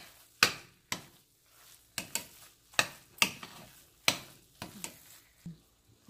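A spoon scrapes and taps around a pan of coconut jaggery laddoo mixture with gram flour. The strokes are sharp, intermittent and fairly faint, spaced irregularly and close by, with no talk.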